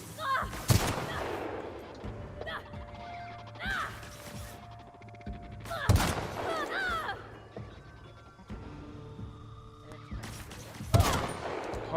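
Regular gun fired in The Outer Worlds, three sharp loud shots spaced several seconds apart, each with a short ringing tail, over quieter game ambience and effects.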